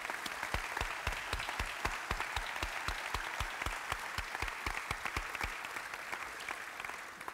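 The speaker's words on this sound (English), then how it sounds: "please give them a round of applause" Sustained crowd applause at a fieldhouse building dedication, many hands clapping in a dense, even roar with a few louder individual claps near the front, continuous from start to finish.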